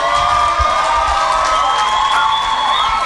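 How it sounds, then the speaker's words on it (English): An audience at a Nairobi innovation week event breaks into loud, continuous clapping mixed with cheering and whoops, a dense crowd roar filling the whole moment. "I thought I would have to remind you to clap, man."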